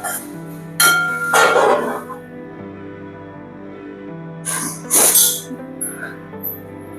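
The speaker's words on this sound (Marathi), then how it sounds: "आता याच्यावर पुन्हा झाकण ठेवून द्यायचं." A lid is set on a pot of cooking kantoli vegetable, giving a couple of short metallic clinks over a faint steady hum, with someone speaking briefly around them.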